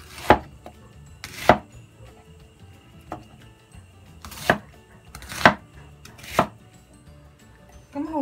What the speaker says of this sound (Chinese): 咁洋葱就切件啦。